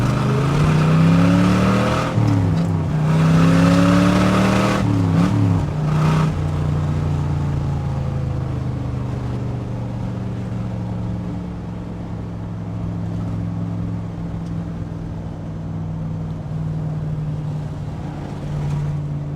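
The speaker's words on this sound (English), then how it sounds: "Do a little acceleration performance run here." A loud 1966 Chevrolet Corvette 427 V8 revs and accelerates hard through side pipes, its pitch climbing through several gear changes, then settles into a steady, rumbling cruise.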